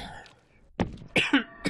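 A person clears their throat in a few short, harsh bursts, rough scratchy rasps close to the microphone, sounding almost like stifled coughs, separated by brief pauses.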